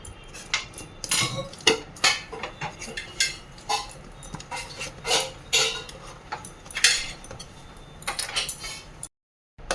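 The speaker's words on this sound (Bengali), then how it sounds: "এইভাবে চাকুর সাহায্যে চারিপাশটা একটু ছাড়িয়ে নিতে হবে।" A knife runs around the edges of a semolina cake to loosen it from the pan, making a string of close scraping and metallic clinking strokes in an uneven rhythm that stop abruptly near the end.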